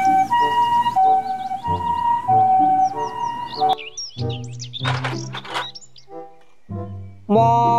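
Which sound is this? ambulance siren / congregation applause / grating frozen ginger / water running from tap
ambulance siren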